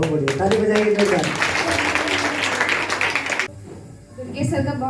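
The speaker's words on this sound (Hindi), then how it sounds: "ताली बजाइए जोरदार" Audience at a Gayatri Pariwar gathering breaks into loud, sustained clapping for about three and a half seconds, then it cuts off abruptly and a voice speaks over the quieter room.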